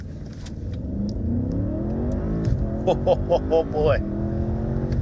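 An Audi S8 launches and accelerates hard, engine revving and rising in pitch through gears, while a person speaks briefly over the roaring engine noise.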